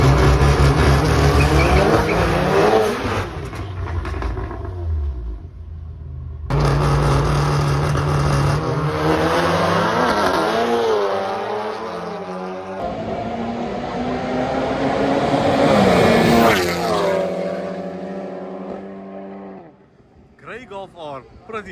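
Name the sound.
Volkswagen Golf R cars drag racing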